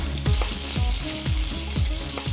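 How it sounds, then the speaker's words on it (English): Sliced onion sautéing with cumin seeds and salt in a pan, giving a loud steady sizzle with rhythmic scraping stirs repeating every half second or so. "Once the cumin seeds are fragrant, sliced onion. saute this onion with some salt"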